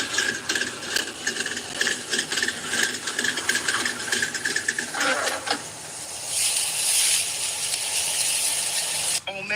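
A ratchet wrench clicks close by in rapid, repeated bursts, the strokes quickening, then gives way to a hissy rustle near the end.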